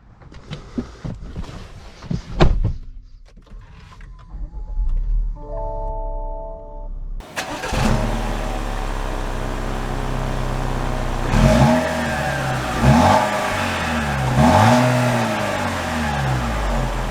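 A 2022 Lexus NX 350 F Sport starts up after a few chimes, its engine catching abruptly and then settling into a steady drone with several rising revs, heard from inside the car.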